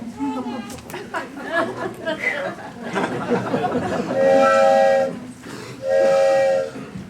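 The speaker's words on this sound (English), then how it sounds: "Well, it sounds like the train's coming in." Chatter and rail noise, then two long, loud steam whistle blasts as a train approaches.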